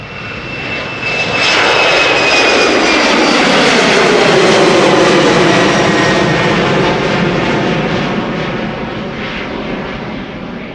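A United Airlines jet passes close and loud, its engine roar building to a broad rumble and holding. A descending whine sweeps through it as the aircraft goes by, then the roar slowly fades.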